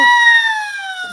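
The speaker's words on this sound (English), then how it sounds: "Made in England. The Acme Siren." An Acme siren whistle made in England gives a loud, piercing wail that slides slowly downward in pitch as it winds down over about a second, heard close and alone.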